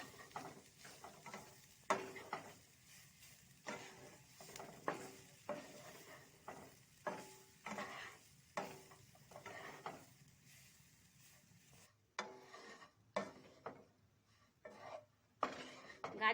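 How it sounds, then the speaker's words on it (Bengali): Carrots being stirred and fried in hot ghee for gajor halwa, with repeated scraping and clattering strokes of a spatula against the pan over a soft sizzle, close and fairly quiet. "এবার গাজরগুলোকে ভালো করে নেড়ে নেব"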